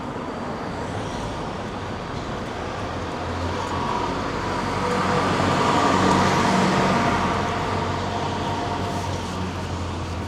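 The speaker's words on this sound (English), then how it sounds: "rush hour crowd is getting off their trains and moving around" Rush-hour commuters and trains in Kagurazaka, Tokyo, heard as a steady, dense urban roar of traffic and rail rumble. The roar swells slightly in the middle of the stretch, with no clear talk rising above it.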